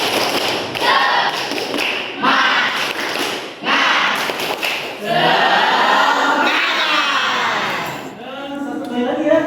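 A group performs the rhythmic 'tepuk semangat' spirit clap, with loud patterned claps and thumps mixed with voices chanting along throughout.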